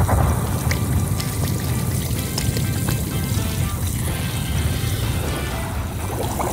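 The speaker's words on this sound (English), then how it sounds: "All we need to do now is pour some soda in." Steady fizzy hiss of soda poured over watermelon, a continuous bubbling and crackling wash of carbonation that stays even throughout, close by.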